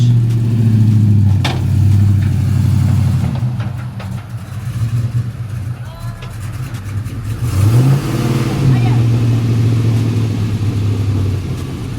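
A car engine on an OBS car in a driveway idles with a steady low drone, then the revs rise and fall in a short sweep before settling back to a loud, continuous hum.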